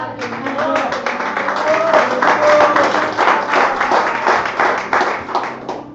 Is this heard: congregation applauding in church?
yes